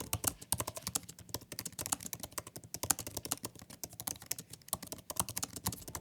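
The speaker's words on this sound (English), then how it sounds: "I love the new updated keyboard. It's fast to get used to, just enough travel distance and a silent profile." Fingers type quickly on the low-profile keyboard of an Apple M1 MacBook Air, a dense run of soft, close key clicks in an irregular rhythm that carries on without a break and has no voices over it.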